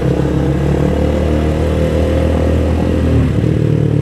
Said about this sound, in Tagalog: Grabe, ingay ng motor sa likod ko.